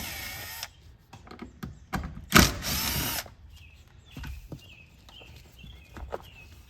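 A power tool spins out 10 millimeter bolts from the fuel pump cover of a Lexus, giving several short whirring bursts separated by quiet gaps, mixed with clinks and handling noises.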